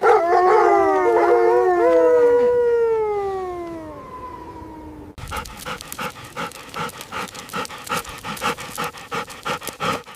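A hyena pack calling on the savanna: loud rising and falling whooping howls that fade out, followed by rapid rhythmic panting and chattering calls close by.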